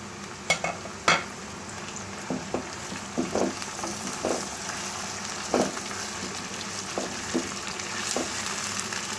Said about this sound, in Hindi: लहसुन और अदरक डाल के मैंने 15 मिनट तक फ्राई कर लिया, तो अब मैं इसमें डाल दूँगी चिकन